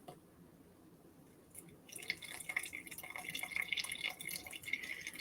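Water is poured into a container resting on a kitchen scale, a quiet trickling and splashing that begins after a near-silent pause and keeps going, close and soft.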